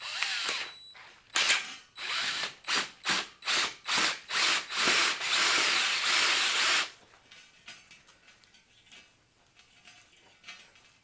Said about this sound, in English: Since the weld overlaps these holes on the bottom, I need to re-drill them and re-tap them.